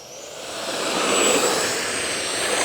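An FMS J-10 64mm EDF radio-controlled model jet takes off from grass, its ducted fan a steady loud whine that swells and holds close by throughout.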